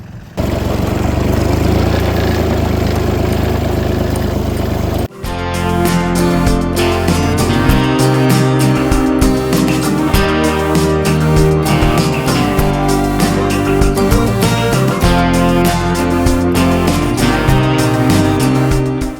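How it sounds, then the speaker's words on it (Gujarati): A tractor engine runs close by with a loud, steady rumble; after a brief change in tone it settles into a rhythmic, pulsing idle that continues to the end. "હવે પપ્પા અમે ટ્રેક્ટર લઈ આવ્યા"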